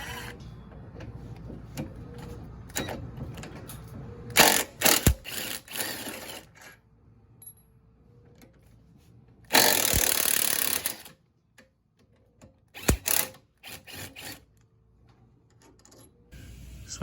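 A ratchet loosens the sway bar mounting bracket bolts on a Mercedes C230, making quick clicking runs with a few louder bursts between quiet pauses, close up and with no talk.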